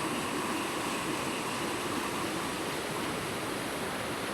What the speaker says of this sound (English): I think the waterfalls are called Cascades de Sordet